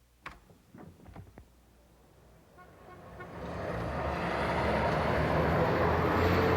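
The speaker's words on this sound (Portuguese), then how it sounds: "O barulho vem, por exemplo, dos milhões de carros que circulam diariamente pela cidade, das irritantes buzinas" A few short car horn toots early on, then the rumble of passing city traffic builds and grows steadily louder.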